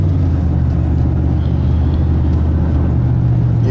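Andrea's truck engine pulls under throttle, a loud, steady low drone heard from inside the cab that holds its level throughout, with no talk.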